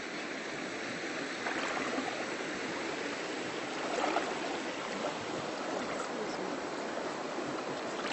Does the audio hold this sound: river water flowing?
yes